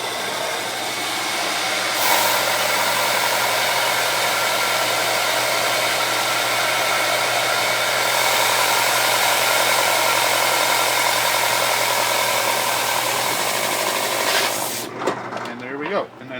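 A hole saw slowly finishing its cut through a roller blank on a drill press, giving a steady, loud whirring drone that runs unchanged for most of the clip and then breaks off near the end.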